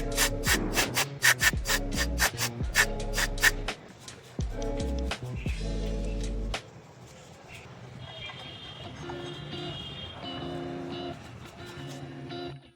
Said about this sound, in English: we are going to clean the brake pads with the help of sandpaper.